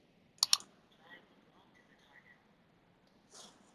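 Computer mouse clicks on a quiet desk in a classroom coding tutorial, a quick pair of sharp clicks near the start and another soft click toward the end, with faint background noise between.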